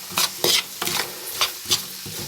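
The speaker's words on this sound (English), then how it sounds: "Give it a quick stir." Ground black pepper, salt and chili flakes are stirred through frying onions, with several scraping strokes of the spoon over a constant close sizzle.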